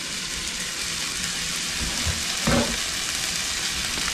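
Strips of poblano chile sizzle steadily in a cooking pot, a continuous close hiss of frying with a brief louder burst midway, and no voices.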